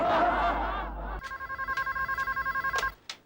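A telephone bell rings in a housing-society sitcom scene: a fast, even trill of pulses for about two seconds. A voice speaks loudly just before it, and a short clatter follows.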